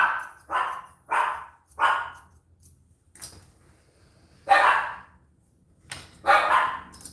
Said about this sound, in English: Of course, my dogs are barking.